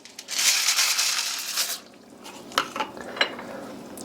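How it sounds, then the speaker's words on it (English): Minestrone soup with elbow macaroni is stirred in a cooking pot, giving a brief burst of scraping and sloshing followed by a few soft clinks and knocks of the utensil against the pot. "Give it a nice little stir"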